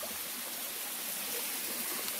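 A tall forest waterfall rushes in a steady, dense broadband roar, close and constant, with no voices over it.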